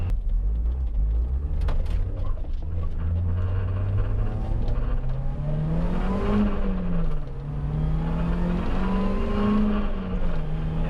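Supercharged Mazda MX-5 Miata hard top accelerating hard from inside the car, a loud engine drone rising and falling in pitch through gear changes with a constant road rumble.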